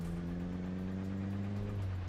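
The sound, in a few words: car engine running in Project Zomboid video game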